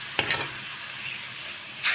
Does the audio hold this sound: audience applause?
no